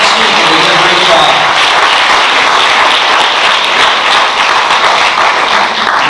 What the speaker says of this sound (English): I'll put a big round of applause for all of our teams and captains that we have.